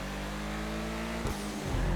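A car engine in Grand Theft Auto V drones steadily with a low hum, then briefly revs and shifts near the end, close and fairly loud.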